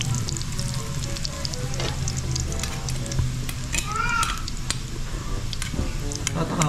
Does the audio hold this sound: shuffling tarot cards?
no